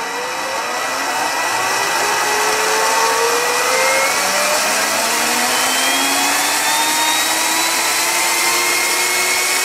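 An Arduino-controlled electric motor spins a guitar pickup winder, giving a loud, steady whirring hum that rises gradually in pitch as it speeds up and runs without pause.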